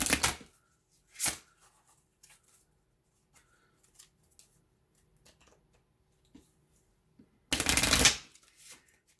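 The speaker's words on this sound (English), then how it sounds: "So we'll just do a quick shuffle here." A Santa Muerte oracle card deck is shuffled in a few short, crisp riffling bursts separated by quiet gaps, the last and loudest burst lasting about a second near the end.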